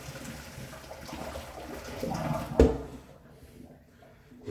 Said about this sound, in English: I'm going to drain this into the sink slowly